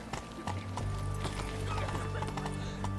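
Hooves of the horse Roach galloping in The Witcher 3 video game, a rapid continuous clip-clop with jingling tack over a steady game soundscape and music drone.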